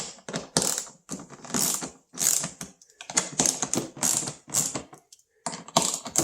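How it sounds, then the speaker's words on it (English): A ratcheting hand tool backs out 7mm bolts from a Mustang door panel, loud close bursts of rapid clicking separated by short pauses, repeated several times with no talk. "This is going to expose a series of 7mm bolts that are holding this in. We need to take each one of those out."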